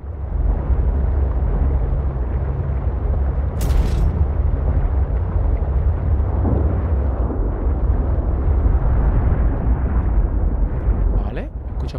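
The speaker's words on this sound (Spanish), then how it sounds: "escucho explosiones termales aquí" Thermal vent eruptions in the underwater game Subnautica Below Zero, a steady deep rumbling roar that fills the scene continuously, with a brief sharper burst partway through and nothing else standing out.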